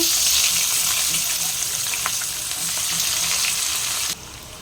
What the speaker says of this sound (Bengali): এবারে এই তেলের মধ্যেই আমি পেঁয়াজ দেবো। পেঁয়াজটাকে লাল লাল করে ভেজে নেব।